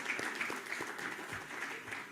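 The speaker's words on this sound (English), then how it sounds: "So big round of applause to staff as well as the management committee members over here." Audience applause at a chartered accountants' summit, a steady wash of many hands clapping that sounds fairly faint and distant in the hall, continuing evenly throughout.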